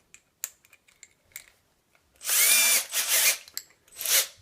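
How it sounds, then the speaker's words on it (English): A power drill whirs in two short, close bursts as it drives a cut 1/4-20 bolt fitted with nuts, preceded by light clicks and handling taps. "I'll just chuck them up in my drill"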